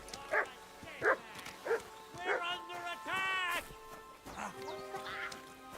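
A dog in the video game Kingdom Come: Deliverance 2 gives a run of short, sharp barks and yips, then a longer whine and further barks, fairly close and moderately loud, with speech-like sounds mixed in.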